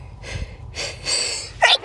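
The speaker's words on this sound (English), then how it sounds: "Oh, I'm gonna sneeze." A single person's sneeze builds through a couple of sharp breathy intakes and snorts, then bursts out in a short, loud, close release at the end.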